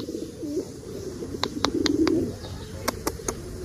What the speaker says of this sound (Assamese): অকল চৰাইৰ মাত পোকৰ মাত